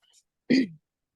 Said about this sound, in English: were you just clearing your throat?